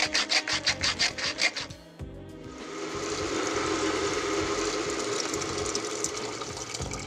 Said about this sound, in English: Grind some pepper.